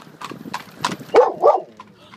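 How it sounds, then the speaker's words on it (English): Several horses approach at a horse trials event in Aiken, their hooves clip-clopping in a loose rhythm at moderate distance, with a couple of louder thuds near the end and faint voices in the background. "look at the nice horses that are coming"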